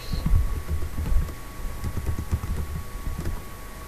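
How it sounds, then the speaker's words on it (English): Typing on a computer keyboard, a close run of soft irregular key clicks with a few heavier taps, over a faint steady electrical hum. "go ahead and type the first 50 characters"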